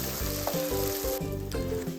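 Ginger garlic paste sizzles in hot oil while cooking chicken pepper dry, a dense close frying hiss with rhythmic stirring strokes pulsing through it, steady and alone.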